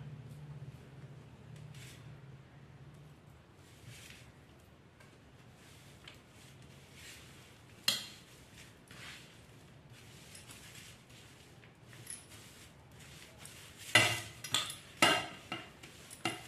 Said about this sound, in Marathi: आता हे सगळं आपल्याला मिक्स करायचं।